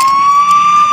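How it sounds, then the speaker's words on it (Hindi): Police siren playing through a phone speaker, a loud, steady electronic tone filling the whole second without pause. "देख पुलिस की आवाज फिर भी आ रही है यार, सायरन आ रहे हैं"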